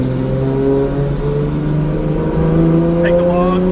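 A 2JZ-engined turbocharged car on a 10-pound boost pull, a loud steady engine drone rising in pitch as it accelerates, heard close and continuous.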